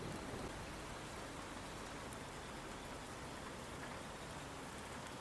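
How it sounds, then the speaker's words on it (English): Steady rain patters continuously on surfaces in a dense, even wash of noise, with no clear thunder cracks, heard alone at a moderate, enveloping level. "thunderstorm sort of thing, rain, kind of relaxing"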